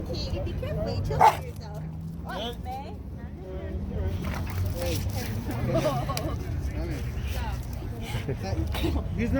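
Dog at an outdoor car meet giving a few short barks and yips, with one sharp bark standing out early, heard under steady nearby conversation and crowd background.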